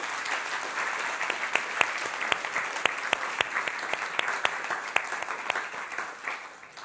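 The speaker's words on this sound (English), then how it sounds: "so another warm welcome and applause for our wonderful musician." An audience at the 2022 Intercultural Achievement Award ceremony applauds a musician, a dense, steady clapping from many hands in a hall, with a few sharper claps standing out before it tapers off at the end.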